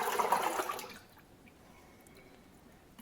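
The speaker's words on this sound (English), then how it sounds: "I'm going to dump the whole thing into the filter bag" Fermented basmati rice wine (homebrew makgeolli) poured from a fermentation jar into an 80 micron filter bag, a close, full liquid gush lasting about a second before falling away to quiet drips and faint room noise.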